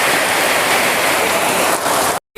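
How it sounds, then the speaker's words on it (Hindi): Heavy rain pours down steadily in a loud, dense wash of broadband hiss, continuous for about two seconds before cutting out abruptly. "देखिए बारिश कुछ ज़्यादा ही बढ़ चुका है"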